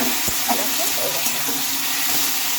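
Diced tomatoes go into a pan of hot onion and garlic paste, giving a dense, continuous frying hiss with a few soft stirring knocks, close and steady.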